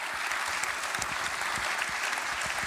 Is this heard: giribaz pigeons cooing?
no